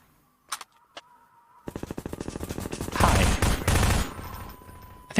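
Rapid automatic gunfire in Half-Life 2, a few isolated shots followed by a long, loud, fast-paced burst of repeated cracks that grows denser and heavier toward the end.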